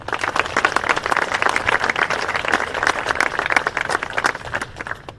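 A crowd at a military change of charter ceremony applauds steadily, dense overlapping claps filling the space at a constant loud level without pause.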